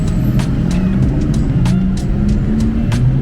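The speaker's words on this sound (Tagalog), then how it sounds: "Traffic guys." Nighttime road traffic on a busy Bangkok street beside an overpass, a dense steady engine drone with low rumbling vehicles and short bursts of higher noise as they pass close by.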